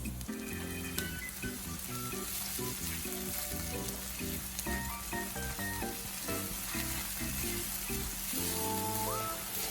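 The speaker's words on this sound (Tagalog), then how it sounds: "Ika-caramelize lang natin ang ating sibuyas at isusunod na natin ang ating soy sauce." Onions caramelizing in a pan for chop suey, a steady close sizzle and crackle with occasional stirring scrapes, no voices.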